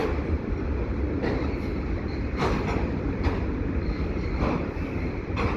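CN mixed freight train rolling past a crossing at Chemin Isle Claude: a loud, continuous rumble of cars with periodic clacks from the wheels over rail joints, close by and with no speech.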